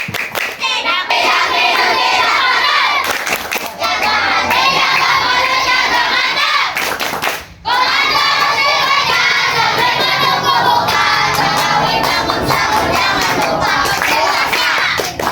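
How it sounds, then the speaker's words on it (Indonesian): Children at a Ramadan gathering clap a loud, rhythmic chant together, shouting along in a lively group, with a brief pause midway before the clapping resumes. "Ya kita sekali lagi lah yang semangat. Tepuk puasa."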